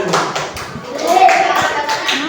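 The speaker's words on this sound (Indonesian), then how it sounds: "Tepuk tangan." Clapping from a classroom of students at an Islamic junior secondary school, a few brief bursts of hand claps mixed with children's voices talking close by.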